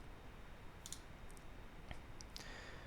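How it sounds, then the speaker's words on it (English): A few soft, isolated computer mouse clicks, faint and spaced apart over quiet background hiss, with no talking. "And then you're going to click on New."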